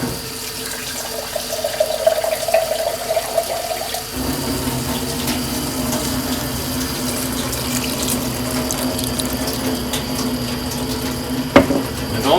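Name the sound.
water being added to a pot of potato soup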